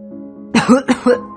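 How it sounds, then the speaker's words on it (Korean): A short burst of close, loud coughing, two or three harsh coughs in quick succession. "감기는 아닌 것 같은데 기침이 계속 나네."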